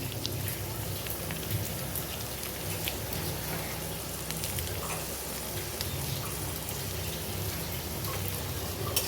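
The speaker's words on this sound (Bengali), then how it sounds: "আদা রসুন পেস্টটা দিয়ে আমি নাড়াচাড়া করি কিছুক্ষণ" Ginger-garlic paste frying in hot oil with onion and tomato for a chicken vorta, giving a steady, dense sizzle that runs unbroken throughout with no voices.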